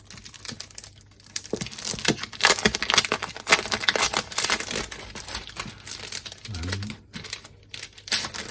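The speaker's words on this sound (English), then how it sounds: "you also get some sparkly paper. This is Balmy Blue Glimmer paper." Sheets of sparkly Balmy Blue Glimmer paper from a Stampin' Up! craft kit handled up close, giving steady crinkling and rustling with crisp crackles, alone without talk.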